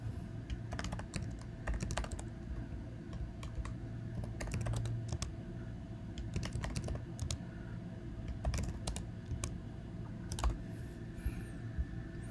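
Fingers type on a computer keyboard, a quiet, close run of irregular key clicks and taps in short bursts with brief pauses, alone against faint room hum.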